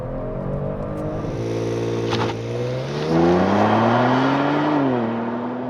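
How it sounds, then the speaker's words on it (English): 2022 Kia Stinger GT under launch control: the engine holds a steady rev, then the car launches and the engine climbs loudly through the gears with a shift partway through, close and alone without talk. "Launch control, just as easy as it always was."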